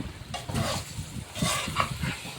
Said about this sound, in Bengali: এবার মশলার সাথে কলিজাটা আমরা সুন্দর করে মিক্স করে নিব।